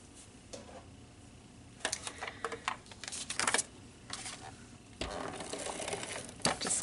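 An ATG adhesive tape gun lays adhesive onto a crumb cake card panel in a quiet craft room, giving soft clicks and a scratchy run of taps and rasps, a burst near the start and a longer, steadier stretch toward the end.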